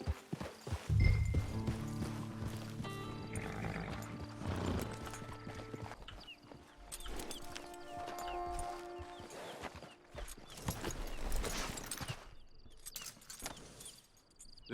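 Horse hooves clip-clop steadily in Red Dead Online, loud and near during the opening seconds, then continuing more loosely under layered game music and ambience, with a brief whinny-like sound and some mechanical jangling mixed in.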